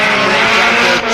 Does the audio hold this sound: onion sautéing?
no